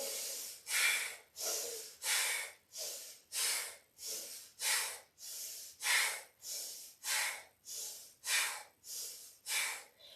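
Deep rhythmic breathing during a yoga session, about a dozen close, airy breaths in a steady repeating cycle, each swelling and fading with nothing else heard.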